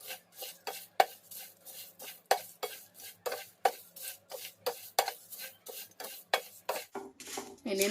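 Whole spices for kitchen king masala are dry roasted without oil in a pan over low flame, giving a steady rhythm of quick, close scraping and rustling strokes as they are stirred.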